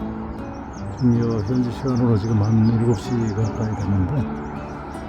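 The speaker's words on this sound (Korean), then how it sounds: "새소리가 들리고" Birds chirping in the early morning at sunrise in Malaga, Spain, with faint, scattered high tweets behind someone speaking Korean close by.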